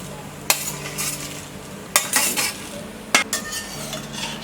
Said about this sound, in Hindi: मिक्स कर देते हैं।